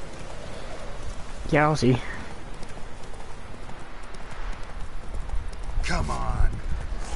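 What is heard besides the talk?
horse galloping in the video game The Witcher 3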